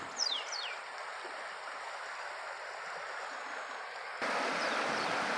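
A stream carrying overflow from Mahalakshmi lake at Peth Vadgaon rushes in a continuous, faint wash of water that grows louder and fuller near the end, with a few high chirps early on and no speech.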